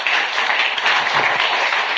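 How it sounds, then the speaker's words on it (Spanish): A church congregation bursts into loud, sustained applause, dense overlapping clapping filling the whole stretch at a steady high level with no talking. "pues dale un fuerte aplauso esta noche,"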